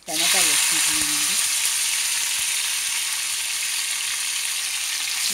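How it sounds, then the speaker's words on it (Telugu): Tomatoes go into a hot pan for coriander chutney and burst into a loud sizzle that holds steady, with a brief voice heard at the very start. "ఇప్పుడు టమాటాలు వేసుకుంటున్నానండి"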